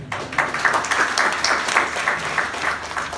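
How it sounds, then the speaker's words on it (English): An audience in a classroom or lecture setting claps for a few seconds, a steady, even patter of many hands at moderate level with no talk on top. "Round of applause, right?"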